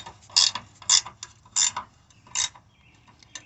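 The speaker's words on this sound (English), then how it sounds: "Get the ratchet to go the right way" A hand ratchet clicks in four or five rhythmic bursts, close and crisp, tightening bolts while installing Sumo Springs inside the wheel well of a Ram 2500, with no voices.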